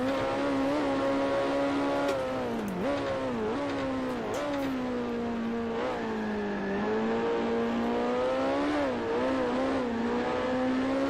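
Several race car engines rev and shift gears continuously in the racing game Grand Prix Legends at the Hethel track, pitch rising and dipping, loud and close with no talking.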